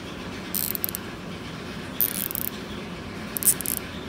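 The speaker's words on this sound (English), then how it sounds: "This one here is actually a 100-tooth ratchet." A Snap-on 100-tooth ratchet gives three short bursts of fine, rapid clicking, each about half a second long, close up and otherwise quiet.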